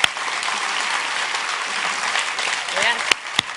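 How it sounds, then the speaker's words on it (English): Crowd at a presidential library event giving comedian Greg Gutfeld a round of applause, a dense steady clatter of many hands, with a few sharp close claps near the end and brief voices under it. "I'll just give you another chance to give Greg a last round of applause"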